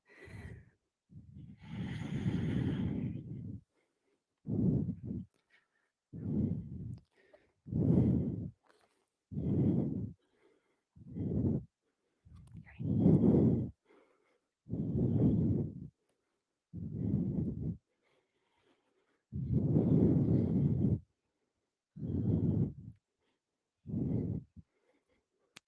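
Slow, deep breaths during a vinyasa power yoga session, a dozen long inhales and exhales in a steady rhythm, each one a soft breathy rush close to the mic with short silences in between.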